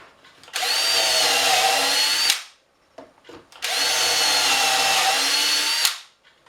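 A Festool Domino joiner plunges into wood, boring mortise holes for an armoire. Two loud, steady whirring cuts run about two seconds each, separated by a brief pause with small clicks.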